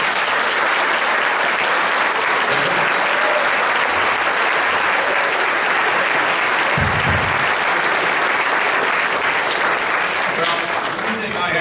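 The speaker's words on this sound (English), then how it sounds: "Let's give him a big round of applause." Loud, sustained applause from a forum audience greeting Governor John Kasich, dense clapping at a steady level throughout with some crowd noise mixed in.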